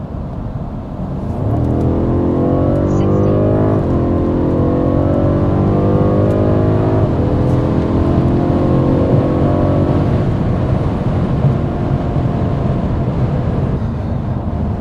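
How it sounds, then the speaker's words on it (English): A 2020 BMW M550i with Active Sound Design on, its engine accelerating steadily from idle with rising, layered harmonics, a continuous loud growl that stays close and runs for the full length with no talking. "I mean, I definitely like the way the car sounds."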